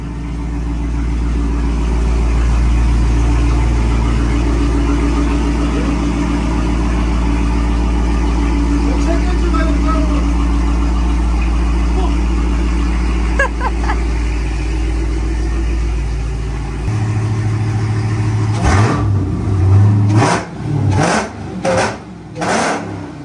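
A voice imitates a Dodge Hellcat (Chrysler) engine starting: a loud, steady low rumble that shifts near the end into a few sharp revving bursts.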